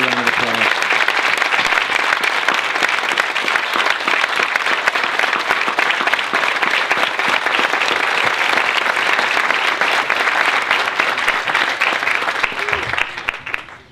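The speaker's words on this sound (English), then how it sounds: "Give them a big round of applause." A big round of applause from an event audience honoring military veterans standing up, dense sustained clapping from a large crowd that holds steady, then fades out at the end.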